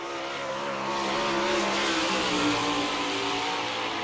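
A dirt-track sprint car engine roars at high revs at Barberville, Florida, its pitch rising and shifting as it passes fairly close, loud and sustained without talk.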